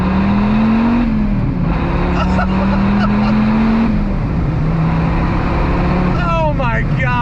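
A 2006 Dodge Viper SRT10 V10 on throttle gives a loud, close engine drone that holds, dips as it shifts, then climbs again. A voice speaks over it throughout.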